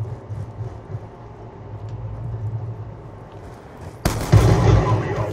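Close-range shotgun fire in a first-person shooter match, a sudden heavy blast near the end that bursts over a low ambient rumble, loud and close.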